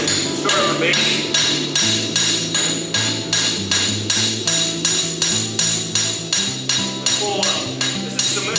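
A farrier's hammer strikes steel while clipping a horseshoe, ringing blows in a quick, even rhythm of roughly three per second, loud and close, with a bright metallic clang on each hit and no speech.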